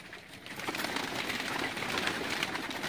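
Pigeons on a rooftop loft in Sialkot, soft cooing and fluttering bird sounds amid faint outdoor background noise, fairly quiet and continuous.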